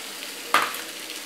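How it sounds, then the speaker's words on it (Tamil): Cooked amaranth greens are stirred into softened onions in a hot pan, a brief scraping stir over a steady sizzle of frying, close and clear. "போட்டு இது நல்லா கலரி விடுங்க"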